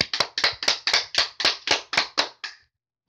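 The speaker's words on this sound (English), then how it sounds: "let's clap!" Ten crisp hand claps in an even, slightly accelerating rhythm, close and clear, ending with a softer final clap and then silence.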